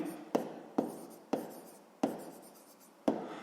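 Pen strokes on paper during a sixth-grade math exercise, five short scratchy writing bursts, each starting with a sharp tap then trailing off, close and fairly quiet with no voices.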